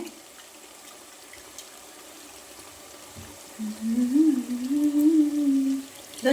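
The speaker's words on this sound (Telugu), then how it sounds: "చింతపండు వాటర్ కూడా వేయాలి దాంట్లోకే" Soaked tamarind water is poured into a pan of fish curry, a soft trickle that swells into a louder, bubbling pour partway through, with no talking.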